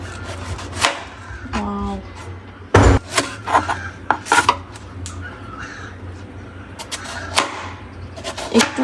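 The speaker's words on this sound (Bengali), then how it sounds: "এখন এটাকে পিস পিস করে কেটে নেব।" A knife chops a young, tender bottle gourd into thick pieces on a board, giving sharp irregular thuds and cuts, with a little rubbing and handling between strokes.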